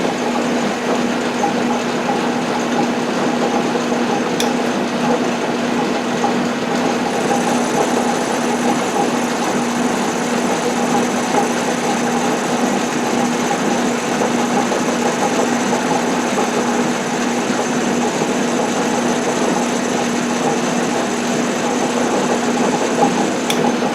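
A machine cranked up and cutting during hydraulic press improvement work runs steadily for the whole stretch, a constant close motor hum with a fixed whine and no talk.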